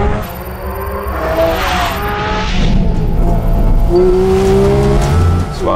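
A 2022 Porsche 718 Cayman GT4 RS races at the Nürburgring, its engine screaming loud and close with rising revs and shifts, and a brief tire squeal near the end.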